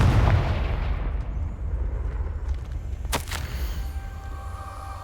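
Confringo blasting spell exploding in Hogwarts Legacy, a loud close boom with heavy low rumble that decays slowly, followed by a brief sharp crackle midway through the fading roar.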